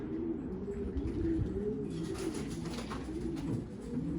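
Racing pigeons coo softly inside a rooftop coop, several birds giving low, throaty, repeated calls that overlap at a moderate distance with faint rustling behind them.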